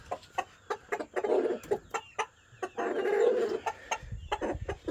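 Homestead flock of Rhode Island Red chickens with turkeys nearby, repeated close clucks and short squawks in an uneven rhythm, loud and clear with no talking.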